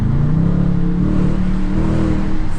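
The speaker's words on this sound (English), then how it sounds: "with a little tap and a little throttle of the throttle pedal, you can hear the exhaust really well" The exhaust of a Dodge Challenger rumbles loud and close, a steady deep engine drone with a slight swell as the throttle is lightly tapped, holding around a low rev throughout without pauses.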